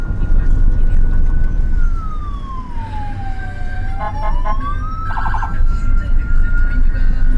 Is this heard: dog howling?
no